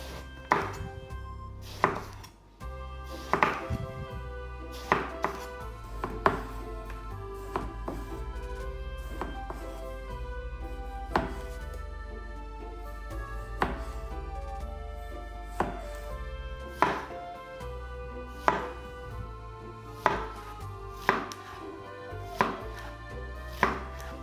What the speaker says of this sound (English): Thinly slice the vegetables.